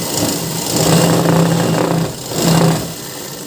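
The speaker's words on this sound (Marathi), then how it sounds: "आता आपण हे पीच करून घेणार आहोत" A sewing machine stitches a blouse neckline in two steady whirring runs, separated by a short pause and ending with a lighter hum.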